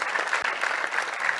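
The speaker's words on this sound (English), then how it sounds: "Give her a big round of applause" Audience applause at the Alpine A290 car reveal event, a short burst of steady clapping from a crowd that carries on evenly throughout.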